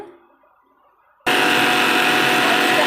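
A mixer grinder jar grinds fried ingredients into powder, starting abruptly after a quiet moment and running as a loud, steady, close whir to the end, with no talk.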